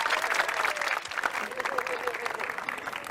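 An audience breaks into sustained, dense applause welcoming a poet, singer and actress at a professions talk event, with steady crowd clapping and some voices mixed in throughout.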